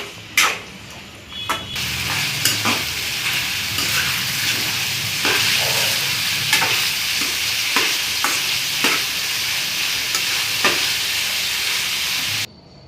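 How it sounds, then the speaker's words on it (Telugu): Chicken, onion and green chillies stirred in a hot pan with a ladle, giving a steady frying sizzle broken by repeated scraping strokes throughout, close and fairly loud with no voices. "ఇప్పుడు చికెను, ఆనియన్, పచ్చిమిర్చి ముక్కలు బాగా కలుపుతూ గరిటెతో తిప్పుకోవాలి"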